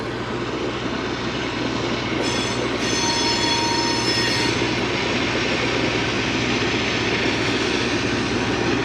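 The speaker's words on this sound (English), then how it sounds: "Well, this is a very slow moving train." A slow-moving train rumbles steadily nearby at Morant's Curve in the Canadian Rockies, loud and continuous, with a low drone, high metallic wheel squeal, and a sustained tonal whine partway through.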